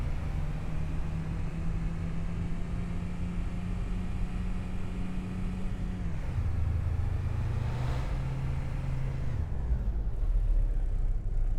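Tractor engine in Farming Simulator 25 drones steadily at low pitch throughout, dropping to a deeper, rougher tone midway and again near the end, with constant broad noise over it and no talk.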